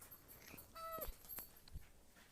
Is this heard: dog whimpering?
yes